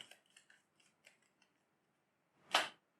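A few soft taps and light clicks of cards being handled lead to one short, crisp riffle as a card is shuffled back into a deck during a tabletop card game, close and quiet with no talk.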